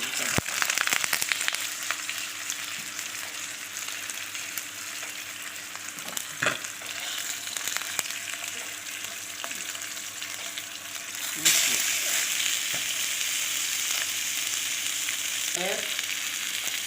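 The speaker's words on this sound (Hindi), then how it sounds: "अब मैं इन्हें फ्राई करने लगी हूँ। मैंने ऑयल डाला है" Chicken chapli kebabs fry in a little oil, a continuous moderate sizzle with occasional spatula knocks and a louder burst of crackling partway through.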